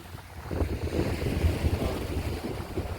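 Rough waves and strong wind along a seashore at night, a steady rushing roar with wind buffeting the microphone and low surf surges, no voices.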